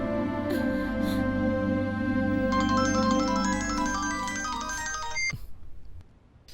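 A mobile phone ringtone plays a steady electronic melody that grows fuller partway through and cuts off abruptly near the end, heard close and alone in a tense dubbed action suspense film scene.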